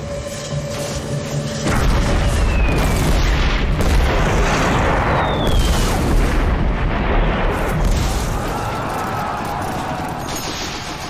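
Massed World War I artillery pounding away, a dense roar of heavy booms rolling into one another, loud and continuous after a quieter opening.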